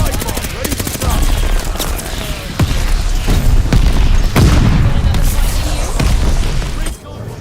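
Mortar shell explosions in Call of Duty: Vanguard: heavy booming impacts spaced a second or so apart within a constant loud wash of battle noise and scattered gunfire.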